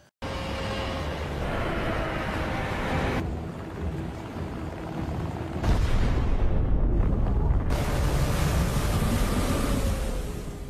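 A ship blown apart in an action film, a loud sustained roar of rumbling blast and churning water with heavy low-end surges, no talk.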